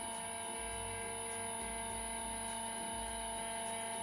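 A Peter Pugger VPM-7 pug mill mixes clay with a continuous mechanical drone and whine, steady and moderately loud, with a low churning pulse that swells roughly every second.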